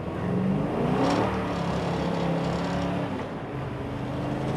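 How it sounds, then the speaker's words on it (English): A Chevrolet Chevelle driving past near a beach bonfire, a broad engine rumble that swells and holds for several seconds before easing off slightly. "That's a Chevelle."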